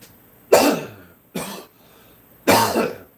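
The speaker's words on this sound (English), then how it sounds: "I got this cough." A man coughs three times, close and loud, each a harsh burst that trails off, with short pauses between them and no talking.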